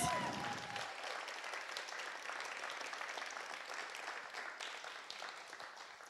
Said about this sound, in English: Let's give Kiki another round of applause.